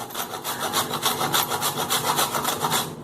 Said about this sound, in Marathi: जायफळ मात्र ताजं ताजं थोडं किसून घालायचं